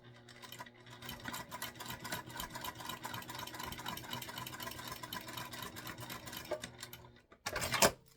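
A domestic sewing machine stitches a seam on a structured bag, a steady mechanical whir with rapid needle rhythm running for about seven seconds before stopping, followed by a brief louder handling clatter.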